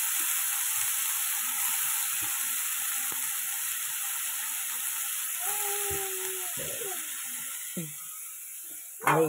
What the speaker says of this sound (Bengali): কড়াইতে কালো জিরে ফোড়ন দিলাম তেলের ওপরে, দিয়ে এবার এই যে ঝিঙেটাকে দিয়ে দিচ্ছি